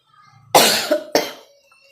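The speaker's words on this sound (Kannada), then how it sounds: "ರಾತ್ರಿ ಸಿಕ್ಕಾಮಟ್ಟೆ ಕೆಮ್ಮು ಬಂದಿರೋದಕ್ಕೆ" One person coughs twice in quick succession, a loud close harsh cough followed by a shorter second one, from a persistent night-time cough.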